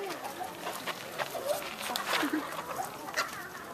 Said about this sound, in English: Good, Hava feeding the chickens.